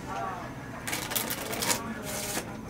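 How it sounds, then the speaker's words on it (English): Playing cards are given a poker shuffle, making a bright riffling burst that rattles for about a second, then a second shorter riffle follows, close and fairly quiet. "The second is the poker shuffle."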